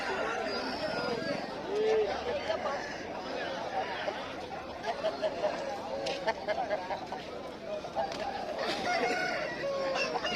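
Roosters and hens clucking and calling at a busy village chicken market, with a black rooster among the birds, steady crowd chatter and voices talking throughout, bird calls rising briefly over the din.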